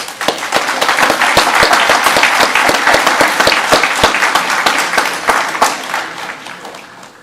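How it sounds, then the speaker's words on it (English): A graduation ceremony audience gives a round of applause for a Navy Junior ROTC unit, loud, close and sustained, with sharp individual claps standing out from the crowd before it tapers off at the end. "with a round of applause, please."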